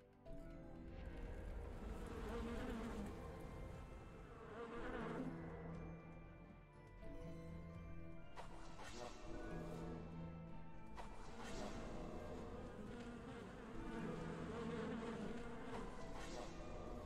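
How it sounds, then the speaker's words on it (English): Buzzing of the Bee Witch, an insect enemy in the roguelike video game Lost King's Lullaby: a continuous droning hum over the whole stretch, mixed with game music, whooshes and occasional hits. "I should probably fight this Bee Witch"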